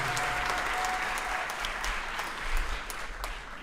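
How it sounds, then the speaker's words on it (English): Applause from the audience at a live Persian talk show, dense and even clapping held throughout with no voices over it. "Give them a round of applause for Annabelle and Furuq."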